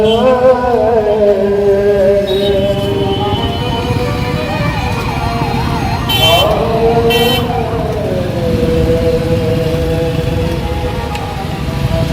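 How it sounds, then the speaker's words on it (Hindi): Ambulance siren wailing while the vehicle sits stuck in a road traffic jam, its rising and falling tone cutting through loud engine rumble, with short horn toots around it. "आज एक एम्बुलेंस भी जाम में फंसी नजर आई।"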